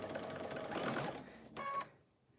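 A sewing machine stitches a dress on a curve, a steady mechanical run for about a second and a half, then a brief second burst before it stops, close and fairly quiet.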